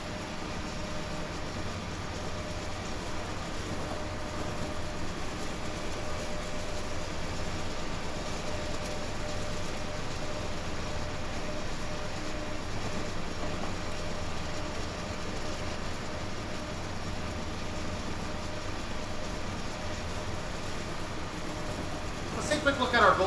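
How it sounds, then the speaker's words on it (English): A train in a train simulator game rolls past in front on the Sherman Hill line, a steady, continuous low rumble and mechanical drone that holds evenly, with a brief sharper clatter right at the end. "this train comes to a stop and then crosses in front of us"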